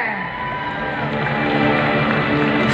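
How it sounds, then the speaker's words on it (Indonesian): An audience at the API Award 2021 ceremony applauds and cheers for overall champion Aceh Province, a dense, steady wash of clapping and crowd noise that swells slightly toward the end. "boleh kita tepuk untuk juara umum Provinsi Aceh"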